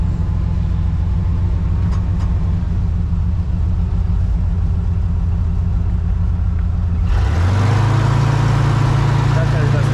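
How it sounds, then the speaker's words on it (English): A pickup truck doing a burnout: a low steady engine rumble under muffled talk, then after about seven seconds the revs jump into a loud, sustained roar as the tires spin. "Do a burnout."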